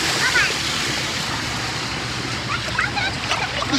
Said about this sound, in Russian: Нас встречает огромный водопад!